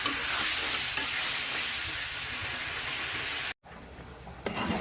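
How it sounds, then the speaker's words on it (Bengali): Cucumber and potato sizzle loudly in oil left over from frying fish, a dense steady frying hiss that cuts out briefly near the end, then resumes with a short clatter. "যে তেলে মাছ ভাজি করেছি ওই তেলে দিয়ে দিয়েছি আমি শসা আর আলু"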